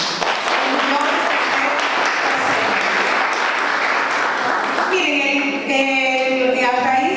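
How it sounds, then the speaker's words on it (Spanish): Loud, dense applause from a seminar audience honouring teachers, sustained for several seconds, with talk or music beginning over it toward the end. "yo quiero que a esa expresión le demos un fuerte aplauso"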